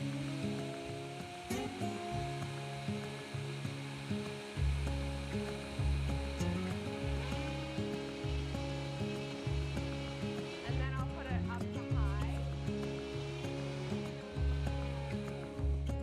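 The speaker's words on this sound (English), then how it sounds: "a quick blend in our Vitamix, and we have perfect oat flour" A powerful Vitamix blender grinds oats into flour, a loud dense whir that pulses and shifts in pitch across the run, filling the whole stretch with steady motor roar.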